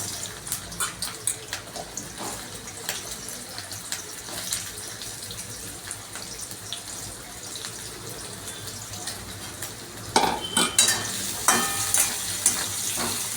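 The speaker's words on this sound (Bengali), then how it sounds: "তো আমি তেলে ছেড়ে দিলাম গাজর আর আলু।" Carrots and potatoes drop into hot sunflower oil and fry with a steady crackling sizzle, punctuated by rhythmic scraping stirs, growing louder and busier toward the end; no voices.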